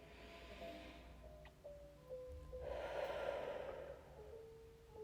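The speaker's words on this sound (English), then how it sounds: "Here I am just taking a second to breathe." One slow, deep breath, with a soft inhale followed by a longer, louder exhale, close and quiet against a faint background hum.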